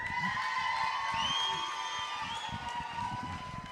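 At a youth market steer and beef show, a crowd in an arena cheers and whoops for young livestock exhibitors, steady and moderately distant, with scattered shouts over a sustained tone.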